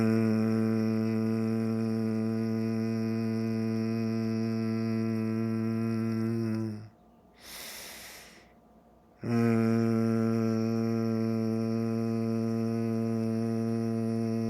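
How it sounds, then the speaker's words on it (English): A single person hums on a long steady exhale during an eye relaxation exercise, one sustained low drone with a short gap of breath in the middle before the hum resumes, close and clear with no talk. "On the exhale, you do a humming sound like this."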